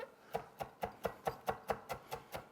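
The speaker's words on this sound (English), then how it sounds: "while I'm chopping it up" Knife chopping through tightly rolled-up food on a board, about ten crisp, evenly spaced cuts in a quick steady rhythm, close and alone.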